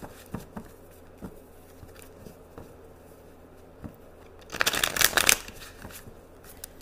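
Tarot cards being shuffled up close: scattered soft taps and handling sounds, then a quick flurry of riffling near the end. Quiet overall.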